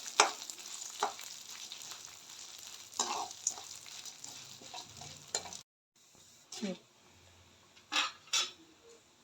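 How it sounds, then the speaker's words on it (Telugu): Chana dal frying in hot oil until browned, a soft continuous sizzle with intermittent stirring scrapes and clatters, close and moderately quiet, briefly dropping out midway before resuming. "మంచిగా బ్రౌన్గా వచ్చే వరకు"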